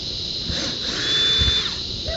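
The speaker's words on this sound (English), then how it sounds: "We'll just pull all these screws out." A power drill whines steadily while backing screws out of an RV bathroom ceiling fan housing. There is a sustained high-pitched motor tone with a brief rising squeal partway through, close and fairly loud, and no talking.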